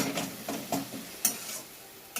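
Ginger, garlic and green chilli paste goes into a hot pan and is stirred, giving soft scraping strokes over a low sizzle, with a couple of sharper clicks from the utensil. No one speaks.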